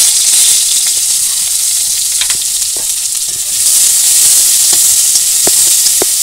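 Chopped onion fries in hot oil in a kadai, giving a loud, continuous sizzle with scattered crackles and light stirring sounds throughout.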